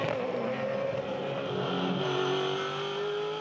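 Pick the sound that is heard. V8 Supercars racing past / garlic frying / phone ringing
V8 Supercars racing past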